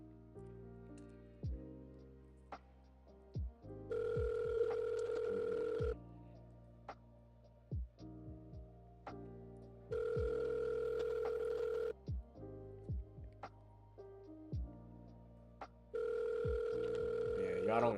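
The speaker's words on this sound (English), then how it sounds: "Why you don't pick up the phone, Marilyn?" A telephone rings out during an unanswered call, with three long ringback tones evenly spaced about six seconds apart, heard faintly under music and scattered clicks.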